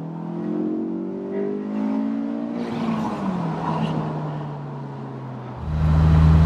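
Honda S2000 roadster engine revving while driving, a rising, buzzy tone that climbs, then eases back. It surges louder again near the end, heard from inside the car with no talk.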